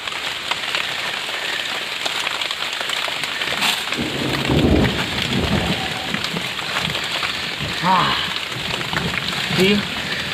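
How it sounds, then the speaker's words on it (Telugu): Steady rain pours down in hilly forest, hissing and pattering continuously, with low rumbles rolling underneath. "వర్షం పడినా చూడండి వర్షం పడుతుంది"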